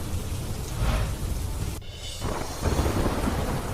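Rain falls steadily with deep rumbling thunder rolling underneath, a brief dip in the noise partway through before the downpour and rumble swell again, close and fairly loud.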